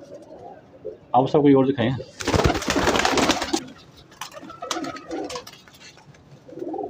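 Pure-bred and cross-bred pigeons coo in short bursts at a home loft, with a sharp flurry of wing flapping in the middle and people talking nearby.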